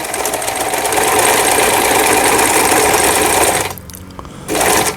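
A Janome 890 sewing machine sews a triple stitch with a fast, steady mechanical whir. It runs for several seconds, stops briefly, then starts again, close and loud.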